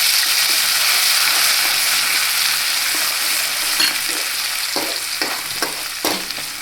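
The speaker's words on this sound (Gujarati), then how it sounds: "આ જો આપણે રાઈ જીરુંની નાખી દઈએ, પછી લીમડો નાખી દઈએ, પછી આદુ લસણની પેસ્ટ નાખી દઈએ" Mustard seeds, cumin, curry leaves and ginger-garlic paste sizzle in hot oil for a Gujarati tomato curry, with a steady close frying hiss and a few sharper crackles and pops near the end.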